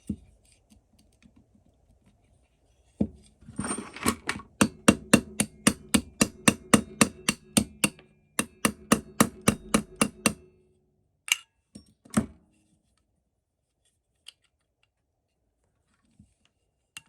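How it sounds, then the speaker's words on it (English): A nylon hammer taps parts into an AR-15 lower receiver, sharp close knocks in quick regular bursts of about a dozen strikes, pausing, then a second burst and a few isolated final taps in quiet surroundings. "use that nylon hammer."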